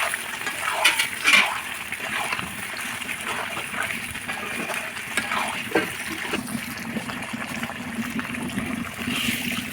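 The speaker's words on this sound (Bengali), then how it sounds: "এখন একটু জল দিয়ে দেবো, জল দিয়ে সিদ্ধ হওয়ার জন্য রেখে দেবো।" Water is poured into a pot of braised meat being cooked down, giving a continuous soft trickling and splashing that runs for several seconds at a moderate level.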